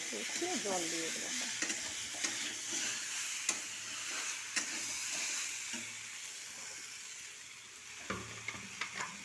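Potato, pointed gourd and egg curry stir-fried in a pan gives a steady close sizzle, with spatula scrapes and taps on the pan scattered throughout and a brief burst of clinks near the end.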